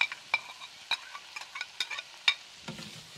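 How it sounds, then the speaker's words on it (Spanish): Pork ribs and nopales fry quietly in a pan, a soft sizzle broken by scattered clicks and scrapes as the pieces are pressed and stirred. "Y aquí la voy a dejar que se esté dorando, pisando bien con los nopalitos."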